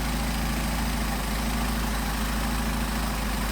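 An engine fitted with Solex 44PHH carburetors idles at about 700 rpm, giving a steady, even, low rumble that holds constant throughout with no speech.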